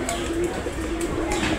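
Rajgolla and black Bombay pigeons coo in a handmade pigeon loft, a low, steady repeated cooing heard close under a broad background hiss.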